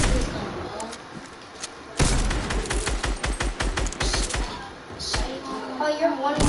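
Rapid gunfire rings out in a video game, loud close bursts of shots with a fast stuttering rhythm, while players talk excitedly over it.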